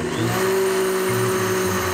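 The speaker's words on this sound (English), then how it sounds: "There's something in a blender." A kitchen blender runs steadily with a loud, continuous whirring hum, close by and alone, holding a constant pitch throughout.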